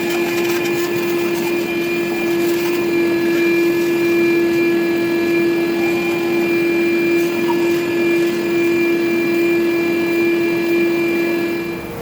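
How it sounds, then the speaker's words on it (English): A shop vacuum runs steadily and loud throughout, sucking debris out of the intake area of a Ford 4.6 V8 in a Grand Marquis or Crown Victoria, with a constant motor whine and no talking. "get the old shop vac out and a scraper and get most of that out"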